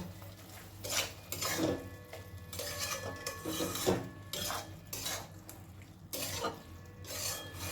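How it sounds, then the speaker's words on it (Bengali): A spoon scrapes and mixes chilli powder and slit green chillies in a pan for ridge gourd malai prawn curry, making repeated rasping strokes against the metal, loud and close, with no talking. "সব কিছু একটু ভালো করে মিশিয়ে নেব"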